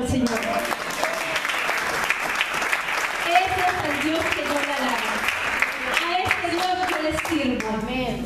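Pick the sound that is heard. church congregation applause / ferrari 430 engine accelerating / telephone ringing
church congregation applause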